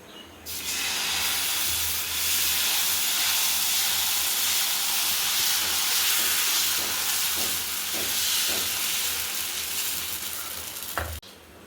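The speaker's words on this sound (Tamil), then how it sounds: "இப்போ எடுத்து தோசை ஊற்றிக்கலாம்" Dosa batter poured onto a hot tawa sizzles loudly and steadily, a close continuous frying hiss that holds for several seconds before a sharp clank at the end.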